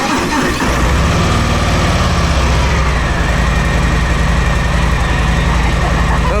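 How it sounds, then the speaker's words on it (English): A stock Harley-Davidson Softail Standard motorcycle engine starts up close by, then settles into a loud, steady idle with a deep, even throb. "start the bike so that we can see what it sounds like totally stock"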